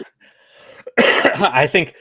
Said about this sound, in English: I apologize, by the way, if I'm coughing a little bit on this video.